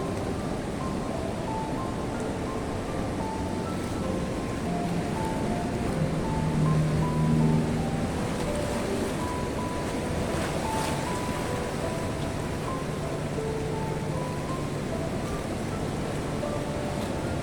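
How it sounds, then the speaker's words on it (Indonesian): Large ocean waves roll and crash at Watu Karung beach in Pacitan, a constant loud surf roar with wind buffeting the microphone, swelling slightly midway and sustained throughout without speech. "ombak tampak begitu besar"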